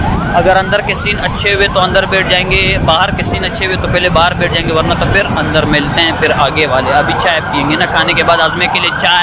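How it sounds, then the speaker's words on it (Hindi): A wailing ambulance siren sweeps up and down continuously in the background while people talk loudly over it. "अभी वहाँ पे एम्बुलेंस की आवाज़ ख़राब आ रही है"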